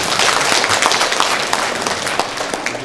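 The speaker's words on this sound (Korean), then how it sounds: "박수 한번 주십시오." Applause from a gathering of delegates at an association orientation, dense continuous clapping from many hands that tapers slightly toward the end.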